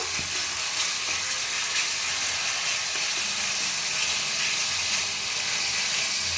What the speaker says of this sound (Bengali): টক দইটা দিয়ে একটু ভালো করে কষিয়ে নেব